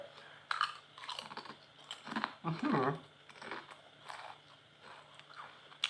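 Crispy fried potato chips from a convenience store being chewed close up, with crunchy bites clustered in the middle and quieter chewing around them.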